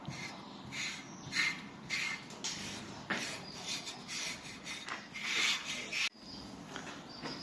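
Rhythmic raspy brushing strokes rub against a cow's coarse coat, close and moderately quiet, with short pauses between passes.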